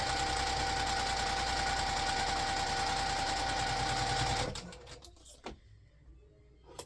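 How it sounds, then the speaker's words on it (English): A sewing machine runs steadily as it sews the first row of a quilt block together, a loud continuous whirring hum for about four seconds before stopping, followed by a few soft handling clicks. "I'm going to sew this first row together first"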